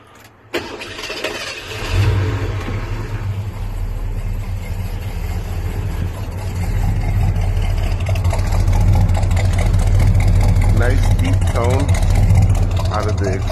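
A Ford HighBoy truck with a new carburetor, fresh tune-up and new exhaust cranks over and fires, then settles into a steady, deep idle that grows slightly louder, with a person talking over it.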